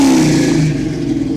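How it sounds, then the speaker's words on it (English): A 1970 Chevy Camaro Z28 high-performance engine revs up loudly close by, its pitch rising then settling back toward a rumbling idle. "All right, rev the engine."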